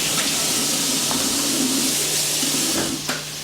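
A kitchen tap runs in a steady, close rush while meat is washed under it, with a few small knocks against the sink near the end.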